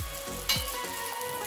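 Bhature dough frying in about three cups of hot oil, a steady bubbling sizzle with a sharper crackling burst partway through, close and continuous.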